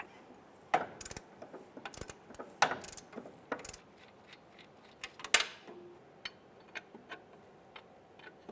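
A ratchet and socket work a fastener to free a strut from the steering knuckle of a 2011–2016 Hyundai Elantra, giving faint, irregular clicks and metallic knocks close by.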